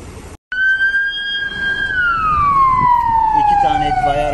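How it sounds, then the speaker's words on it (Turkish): Fire engines leave with sirens blaring for a forest fire in Osmaniye. One loud, close siren wails high and then slides steadily lower after a brief cut at the start. "İki tane itfaiye aracı çıktı, üçüncü çıkıyor."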